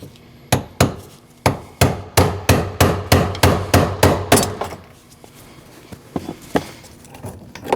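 A hammer strikes a punch to turn the metal lock ring on a 2014-2023 Jeep Cherokee fuel tank, a quick run of about a dozen sharp metallic taps, then a pause and a few lighter knocks.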